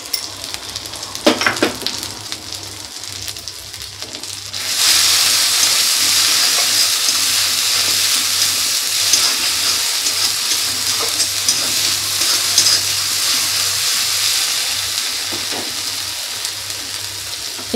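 Fish sizzles in hot oil in a home kitchen, a quiet clatter and brief stirring giving way to a loud, steady frying hiss that holds for the rest of the clip with small fluctuations.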